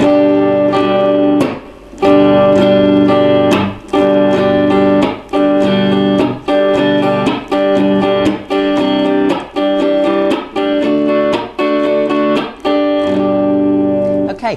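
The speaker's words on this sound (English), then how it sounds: "give you a more interesting strumming pattern" Rhythmic guitar strumming of a song with regular percussive muted chops between strokes, steady and close, played alone.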